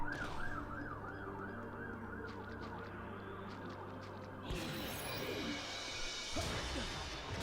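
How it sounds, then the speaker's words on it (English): An ambulance siren wails in the background, a faint rising-and-falling tone cycling for a few seconds before fading under the clatter and noise of a video game. "And that ambulance is a background noise"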